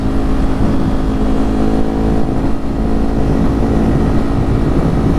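Riding a Ducati Hypermotard 950 SP, a constant, loud engine roar runs steadily throughout, mixed with heavy wind rush and no talking.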